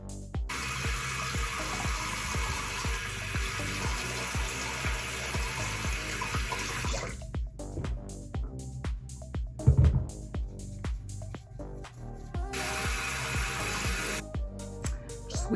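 Tap water runs steadily into a sink while makeup brushes are rinsed on a silicone cleaning mat, a continuous splashing stream that breaks off briefly midway with clinks and handling noises, then resumes.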